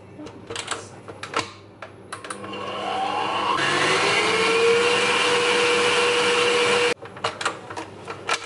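An electric mixer blending cake batter with egg and vanilla whirs up to a loud, steady high-pitched drone for several seconds, framed by brief clicks and clatter before and after.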